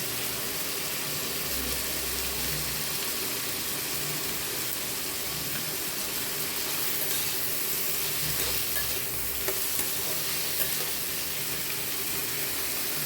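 Grated ginger, garlic and onion frying in a pan with oil for a cauliflower, potato and prawn curry, giving a steady, close, continuous sizzle that holds evenly throughout with no voices.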